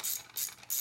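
A ratchet fitted with an 8.5 mm socket tightens the bolt on a rifle charging handle, giving three quick, close bursts of pawl clicking with brief pauses between them. The sound is soft and isolated.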